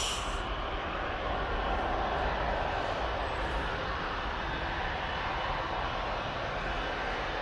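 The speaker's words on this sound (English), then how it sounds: "That's Jet2 737-800 off to Athens." A Jet2 Boeing 737-800 jet departing Manchester Airport for Athens, a steady, loud, broadband engine roar that holds constant throughout, with no voices.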